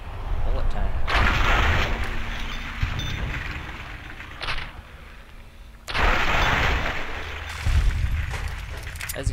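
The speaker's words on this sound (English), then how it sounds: "As you can see, bullet time kind of makes quick work of just a few zombies if they appear." Heavy, booming gunfire from a firearm during slowed bullet time in the Fallout New Vegas video game, with loud rumbling blasts in two main bursts separated by quieter stretches, as zombies are engaged.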